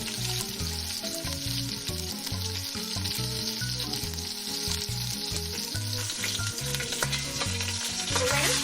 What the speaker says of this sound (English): I'm going to place my rack of lamb fat side down first and sear it about 3 minutes on one side